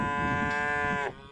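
A cow at a Nevada cattle ranch lets out a single long, resonant moo from its pen, close and fairly loud, ending abruptly.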